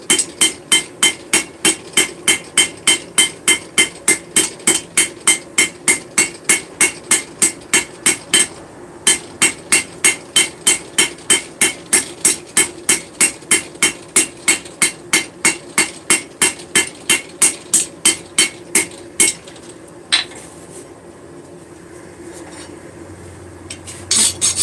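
Steady, rapid hammer blows ring on hot metal at an anvil while forging, dozens of evenly spaced loud strikes with a brief break partway, before the pounding stops and a few lighter taps follow.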